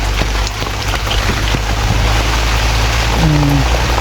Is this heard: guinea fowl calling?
no